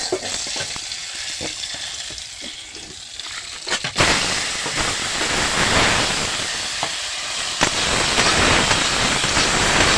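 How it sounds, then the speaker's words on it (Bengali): Koi fish coated in turmeric and salt fry in hot oil in a wok, a loud continuous sizzle that flares sharply a few seconds in and keeps hissing with stirring scrapes. "হাফ করে ভেজে নেবো তেল দিয়ে"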